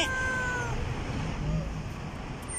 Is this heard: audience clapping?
no